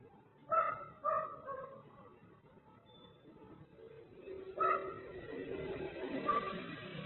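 A pet dog barks in a few sharp bursts, a pair near the start and another later, caught faintly by a CCTV camera in a quiet neighbourhood over a low background hum.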